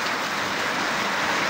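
Steady rain pours down evenly, a dense continuous hiss filling the air without pause, close and fairly loud.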